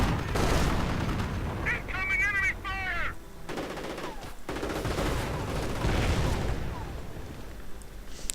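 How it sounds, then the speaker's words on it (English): Heavy machine gun fire rattles through a video game battle involving a Panther tank: dense, continuous bursts with booming impacts, loud and close, while a voice talks over the gunfire. "Heavy machine gun on the spot,"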